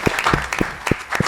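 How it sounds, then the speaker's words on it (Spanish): Audience applause marking the close of an interview on an Argentine entrepreneurship program, heard as a short burst of separate, fairly loud claps with no talking. "Te despedimos con un aplauso."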